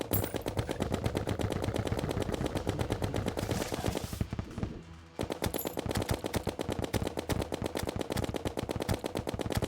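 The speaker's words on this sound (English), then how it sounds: "Machine gun time." Rapid machine gun fire in the Terraria video game, a loud continuous burst of shots that pauses briefly around the middle before resuming at the same rapid rhythm.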